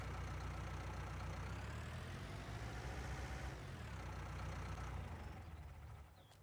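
A modded tractor engine idles steadily in a farming video game, a loud, low, continuous rumble that fades slightly at the end.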